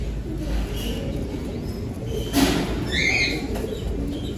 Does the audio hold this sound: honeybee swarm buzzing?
no